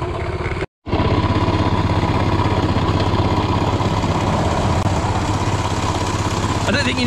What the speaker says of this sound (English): I don't think you need to check the engine oil while it's running,